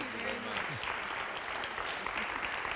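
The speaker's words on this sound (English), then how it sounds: "let's give Jay a big round of applause" An audience applauds a guest named Jay at a weather discussion event, a steady, dense wash of clapping that holds evenly throughout, with a voice briefly audible at the start.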